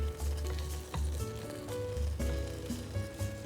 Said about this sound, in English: Now melting the cheese